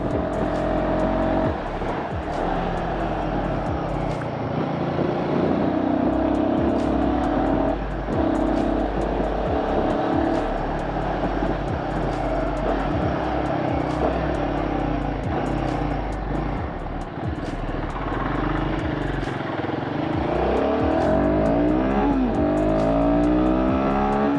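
Royal Enfield Guerrilla 450 motorcycle accelerating on an open road, a loud, continuous engine drone rising and falling in pitch through gear changes, heard close with wind rush.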